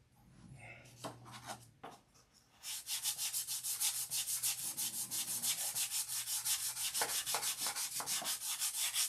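Fine 1000-grit sandpaper rubs back and forth on a surface in a quick, even rhythm of scratchy strokes, close by and unaccompanied after a few slower passes at the start.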